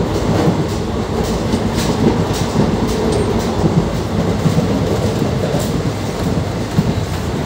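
The 04173 Mathura-Jaipur passenger train runs steadily on its first journey, a continuous loud rumble with rhythmic clickety-clack of wheels over rail joints, heard from aboard without talking.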